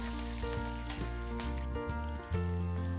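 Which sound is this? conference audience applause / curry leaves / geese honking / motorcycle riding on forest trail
curry leaves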